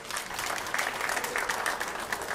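Crowd applause at a women's 10-ball pool tournament, a steady spatter of clapping from a packed audience continuing throughout at moderate level, without talking.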